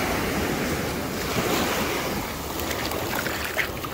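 Stormy ocean surf churns in a steady, loud wash with strong wind buffeting the microphone throughout, no voices present.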